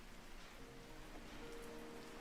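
Light rain begins falling in a video game with a weather system, a faint, steady hiss of drops that holds without a break through the moment.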